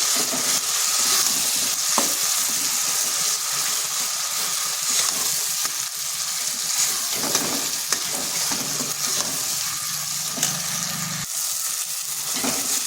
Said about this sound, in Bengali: ডালটায় মশলার সঙ্গে ভালো করে মিশিয়ে নিয়েছি